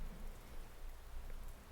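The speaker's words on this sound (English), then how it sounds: "And it's like a drizzle now." Light drizzle patters softly and steadily on surfaces outdoors, a faint continuous hiss of fine raindrops with no voices.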